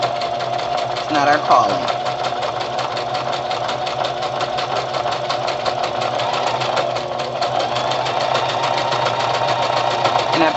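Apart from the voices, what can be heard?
sewing machine stitching fabric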